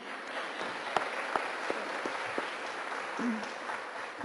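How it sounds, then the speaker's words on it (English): Crowd applause fills the room at a steady level, with a few sharper individual claps standing out and faint murmuring underneath. "Can we please give them a round of applause again?"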